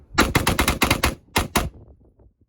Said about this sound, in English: shooting a binary trigger for the first time. 10 rounds, 10 yards.